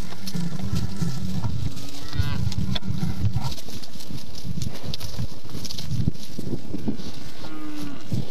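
A herd of cattle at feeding time on a Central Texas ranch, several loud, close moos overlapping with shuffling hooves and outdoor wind noise.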